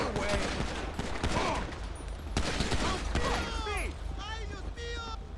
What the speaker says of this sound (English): Oh, dispatch, shots fired, shots fired.